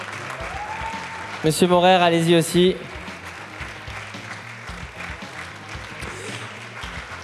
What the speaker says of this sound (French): on peut applaudir l'affiche alsacienne de l'année et sa graphiste Coralie Nussbaumer